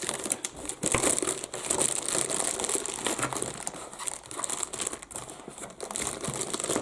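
Crinkly plastic and paper packaging rustles and crumples steadily and close as a small Arism mini airbrush compressor is worked free of its wrapping, with sharp crackles and tears and no voices.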